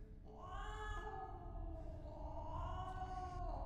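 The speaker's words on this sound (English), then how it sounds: "Goddamn cat." One long, drawn-out meow from a cat in the video game Stasis, close and steady, wavering in pitch for several seconds over a low background rumble.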